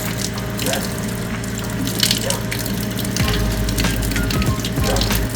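Hot water runs steadily from a tap inside a bus being rebuilt, a continuous close hiss and splash with a low pump-like hum that deepens partway through.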